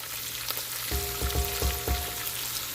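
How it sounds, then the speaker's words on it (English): Hot oil sizzles with a steady hiss as thyme hits it, a few soft pops and snaps crackling through, close up and fairly quiet, with a faint tonal hum underneath. "Thyme, when it hits oil that's hot, you can hear it. It's going to start snapping and popping"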